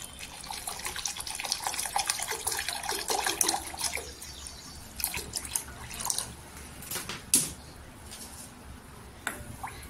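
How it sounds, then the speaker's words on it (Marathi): Cool water from a clay pot is poured into powdered sugar for Rooh Afza sharbat, a continuous close splashing and trickling that fades to softer drips and gurgles. "त्याच्यात पाणी टाकून घ्यायचं."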